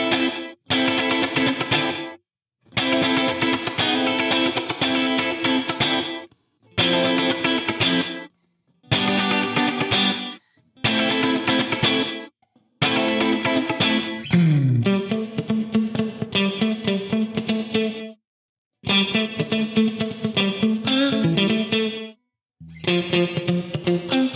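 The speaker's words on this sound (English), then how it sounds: "You use the mega tap delay if you want gated reverb in here." Gated reverb from a Mega Tap delay rack effect on a distorted guitar, heard as loud chopped bursts that cut off abruptly into silence, repeating in blocks of chords and then faster picked lines, with no talk.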